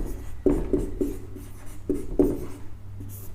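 Chalk or marker writing on a board, a series of short scratchy strokes in uneven bursts, close and clear with no talking.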